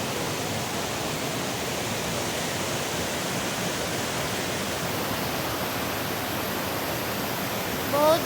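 A strong waterfall in Koraput, Odisha rushes with a constant, loud, broadband roar that holds steady throughout, with no breaks and no other clear sounds over it.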